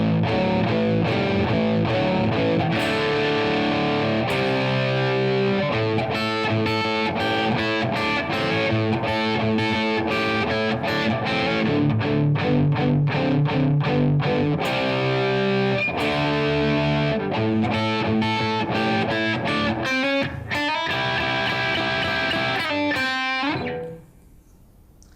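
A distorted electric guitar plays the second chorus of a song, loud and sustained with steady chordal rhythm and punchy accents throughout, then fading out in the last seconds. No one speaks over it.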